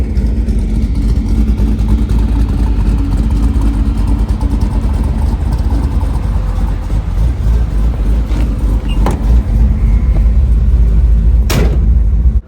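Hotrod engine on a test drive after a repair for breaking up, a steady loud low rumble running throughout with brief sharper surges near the end.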